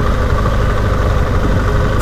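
A BMW GS adventure motorcycle engine laboring through mud, a loud, continuous low rumbling drone heard up close with no pauses.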